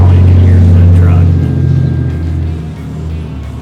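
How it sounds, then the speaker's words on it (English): A truck engine rumbles nearby on a city street, a loud low drone that eases slightly and tapers toward the end, with voices faintly underneath. "now you can hear that truck"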